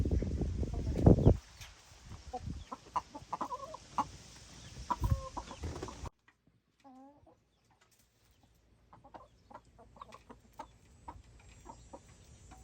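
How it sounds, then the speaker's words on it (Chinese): Backyard hens cluck and cackle around a DIY 5-gallon feeder bucket, loud and close at first with a crowing-like burst, then a sudden drop to quieter, scattered clucks and soft rustling. "鸡姑娘看起来都很开心呢"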